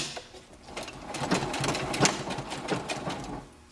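A sewing machine stitches ruffled apron fabric, running in a steady close whirring hum with a rapid mechanical rhythm that swells slightly mid-run.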